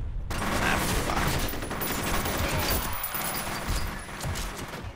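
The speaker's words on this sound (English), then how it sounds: "Stop shooting me." Rapid gunfire from a first-person shooter video game, dense bursts of shots rattling almost continuously, loud and close throughout.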